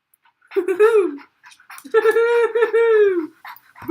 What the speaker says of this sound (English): Look at this happy dog.